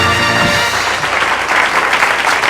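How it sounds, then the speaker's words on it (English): Canned applause on a 1981 radio broadcast with comedian Pat Paulsen, a loud, steady, hissy wash of clapping that swells slightly toward the end. "canned applause, probably"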